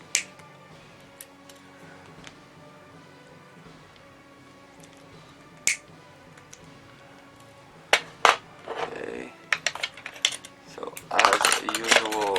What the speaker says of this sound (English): let's cut those leads